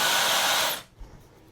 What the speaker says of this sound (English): I'd say this is a really nice hairdryer